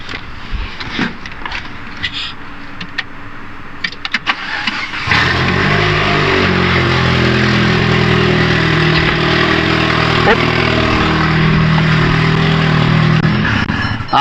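A turbocharged Proton Preve CFE with a suspected grinding turbo cranks over and catches about a third of the way in, then runs with a loud, steady, close engine drone. Fainter handling knocks come before it starts.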